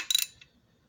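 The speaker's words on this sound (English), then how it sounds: "I'm just tightening them to close the gap on the pistons, rods I should say." A ratchet wrench tightens bolts on engine connecting rods to close the gap, giving a quick burst of close, crisp clicks followed by one fainter click and then quiet.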